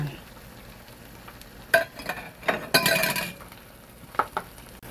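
Shrimp paste being stirred and fried for a Korean hobak zucchini side dish, with a few bursts of sizzling and spatula scraping in a pan against a quiet background.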